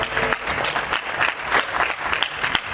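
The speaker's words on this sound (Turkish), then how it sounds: "bir alkış gelsin gençlerimize" Wedding guests applaud the couple, a close, lively burst of many hands clapping with sharp individual claps standing out and a faint murmur of voices beneath.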